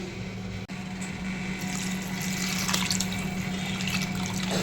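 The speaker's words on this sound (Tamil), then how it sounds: "இந்த புளி தண்ணியை நம்ம அந்த காராமணி கருணக்கிழங்கு குழம்புல ஊற்றணும்." Tamarind water poured into a simmering cowpea and elephant-foot yam gravy in a home kitchen: a continuous soft pouring, splashing trickle for several seconds, close and quiet, with no talk.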